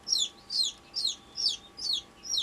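Newly hatched Serama chicks peeping indoors: six loud, high, evenly spaced chirps in a steady repeating rhythm, each a quick rising-and-falling cheep, close by with no talk.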